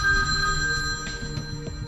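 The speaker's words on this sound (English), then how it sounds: "Then, he kept ringing Melissa's sister." A telephone rings as a sound effect: a steady electronic bell tone with repeated quick ring pulses, clear and close, with no talking.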